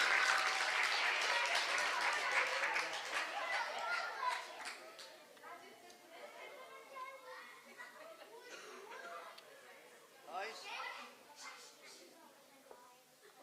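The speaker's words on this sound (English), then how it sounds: "give him a big round of applause." Audience applause with light laughter and chatter follows a magic trick at a stage magic show, loud and dense at first, then thinning into scattered claps and crowd murmur.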